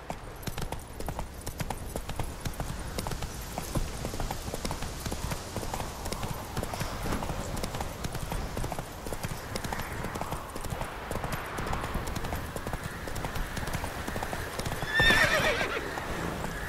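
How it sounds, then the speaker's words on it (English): Horse galloping in The Witcher 3 video game, a steady rapid clip-clop of hooves running throughout, with a brief whinny near the end, loud and close under faint background game ambience. "Run, Roach."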